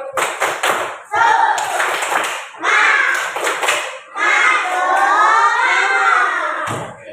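Schoolchildren in a classroom doing a rhythmic patterned spirit clap, sharp bursts of clapping alternating with group chanting and shouting, loud and close throughout.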